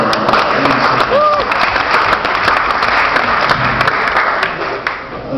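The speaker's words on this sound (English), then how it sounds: "I'm going to run applause for everybody you've seen so far" Comedy club audience breaks into applause, a loud, dense round of clapping with a few whoops, fading slightly near the end.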